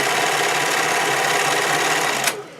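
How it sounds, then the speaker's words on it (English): A sewing machine runs steadily, stitching a tie string from stretchy swimwear fabric, its motor whirring without a break until it stops abruptly near the end. "Now I'm going to sew enough string for a tie in the middle to tie it"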